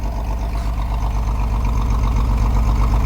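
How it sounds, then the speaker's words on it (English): A Pontiac Fiero car engine idles steadily and close up, a low rhythmic throb running evenly and fairly loud for the whole stretch with no talking. "Is she idling or dying? That's idling."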